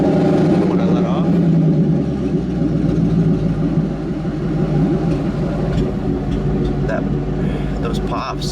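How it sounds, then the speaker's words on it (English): A Ford Mustang engine idles with a steady low rumble while irregular pops come through from a lean-running condition, and someone talks over much of it. "Those pops, I don't know if that's normal or not."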